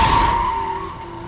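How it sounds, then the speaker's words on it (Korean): In the film 28 Days Later, a car tire bursts and the car skids through an underpass littered with abandoned vehicles, giving a brief, loud, close tire squeal that fades over about a second. "그만 타이어에 펑크가 나버리죠."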